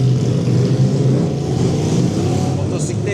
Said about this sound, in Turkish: Motosiklet sesi geldi ama kesmek istemedim.